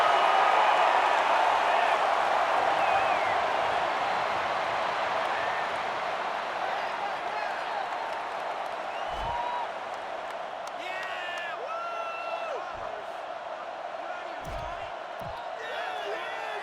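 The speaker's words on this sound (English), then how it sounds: "The crowd is really letting them hear it." A stadium crowd in NCAA Football 09 roars in a sustained wash of cheering that slowly eases off, with a few sharp thumps and scattered whoops rising above the steady din.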